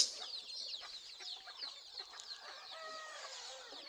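Native free-range chickens cluck and chirp busily on a poultry farm in natural surroundings, a steady overlapping chatter of hens at moderate distance with no talk.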